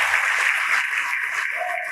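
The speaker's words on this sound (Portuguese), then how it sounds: "E vamos aplaudir ao Senhor Jesus por cada vida que está chegando." Congregation applauding during a church service, a dense wash of clapping hands filling the space throughout with a faint tonal sound near the end.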